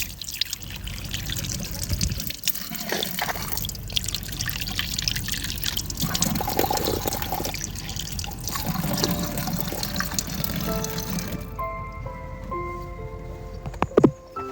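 Water runs from a drinking fountain in a steady, splashing stream close by, continuing for several seconds before cutting off abruptly into quieter surroundings.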